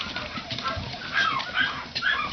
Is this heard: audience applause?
no